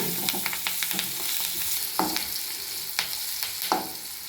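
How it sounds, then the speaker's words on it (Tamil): Shallots and curry leaves softly sizzle in a pan with several scraping stirs, a few sharper clinks of a spoon against metal at irregular moments. "இது எல்லாத்தையும் இப்போ ஒன்றா போட்டு இது பண்ண போகிறோம் போட்டு நல்லா வதக்கிக்கிறேங்க"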